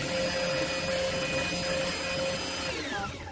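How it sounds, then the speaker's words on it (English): A Singer 3342 sewing machine runs at high speed while winding a bobbin, giving a loud, steady motor whine with a sustained high tone that holds evenly before starting to wind down at the end. "So now we will step the foot pedal and then wind to the higher speed."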